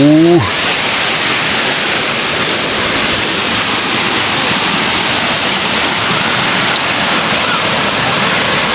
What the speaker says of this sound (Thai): น้ำตกตกลงไปเนี่ย สูงมาก